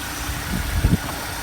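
A BMW 318i E36 with the 115 hp M43 four-cylinder idling close by, a steady low rumble with a brief swell near the end.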